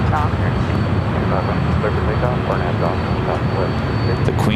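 An airliner roars on takeoff from runway 25 right at LAX, a loud, steady engine rumble close by, with radio voices from air traffic control speaking over it.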